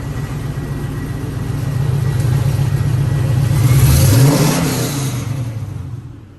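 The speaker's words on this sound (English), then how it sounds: "Let me rev this thing up a little bit." 1969 Chevrolet Camaro RS/LS engine revved once, climbing from a burbling idle to a loud roaring peak and then falling back, close by and with no voices.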